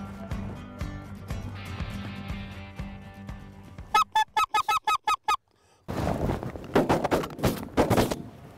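Snow geese in a Texas decoy spread honk in a dense chorus, followed by a burst of rapid, sharp repeated calls and then a loud, busy flurry of honking.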